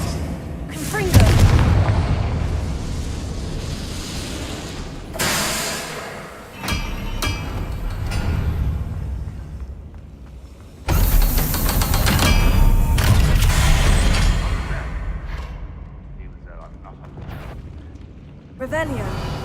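Confringo blasting spells explode in Hogwarts Legacy, delivering several loud, booming blasts with rumbling tails, separated by short gaps, with game speech mixed in among them.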